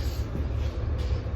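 Inside a moving metro rail train, a steady loud low rumble of wheels and motors fills the carriage, continuous and droning with no speech over it.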